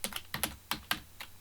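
Typing HTML code on a computer keyboard, several quick, close keystrokes in an uneven rhythm, crisp clicks separated by short pauses.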